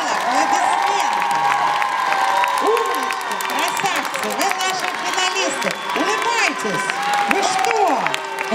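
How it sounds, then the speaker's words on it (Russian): A concert hall audience at a children's dance battle final applauds and cheers steadily for the young finalists, a loud sustained wash of clapping, whoops and children's shouts under music. "Аплодисменты в зал."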